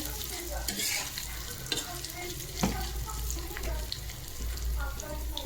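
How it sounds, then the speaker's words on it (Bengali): Paneer chilli fries in a pan with a continuous soft sizzle, broken by a few scraping stirs and light clinks of the utensil, close but fairly quiet, with no speech. "একদম সাইড ভাজবেন"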